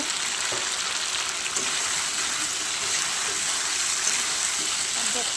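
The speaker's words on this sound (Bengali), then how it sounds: "এবার ডাল মাংসের ভিতরে আলু আর ভেজে রাখা রসুনটা একটু কষিয়ে নেব।" Mutton, potatoes and fried garlic sizzle steadily in a pan as they are sautéed, a continuous bright frying hiss with small scraping clinks.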